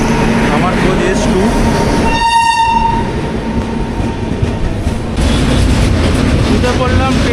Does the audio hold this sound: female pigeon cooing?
no